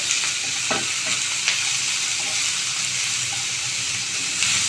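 Onions sauté with salt in a pan for Kerala-style fish molly, a steady close sizzle and frying hiss with occasional stirring scrapes, no talk.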